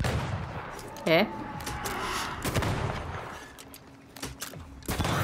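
Gunfire in the video game Banishers: Ghosts of New Eden: a few sharp, close shots break through the game's ambient noise while someone talks over it.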